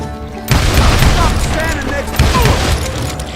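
Dense video game gunfire from a group of hired guns rattles in two loud bursts, a volley of overlapping shots with booming impacts amid a busy battle mix.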